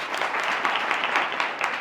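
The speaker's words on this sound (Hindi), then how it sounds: "ताली बजाइए इनको।" Schoolgirls applaud in a college hall, a dense, steady burst of clapping that fills the room from start to finish without pause.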